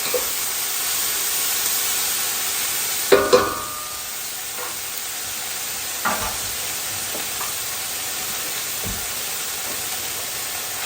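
Chopped apples cook with warmed spices in a pan for a sweet and spicy apple chutney, giving a steady close sizzle and hiss with a few sharp stirring clatters and scrapes, and no talking.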